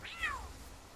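Cattiva, a small cat creature in the video game Palworld, lets out a single short high meow, soft and clear over a faint low background hum.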